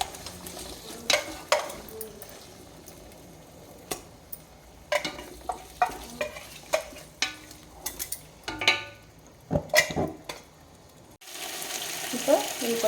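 Ginger garlic paste fries in a pan for chicken biryani, a low background sizzle broken by repeated sharp scraping and tapping strokes of a spoon at an irregular pace, with a brighter burst of frying near the end.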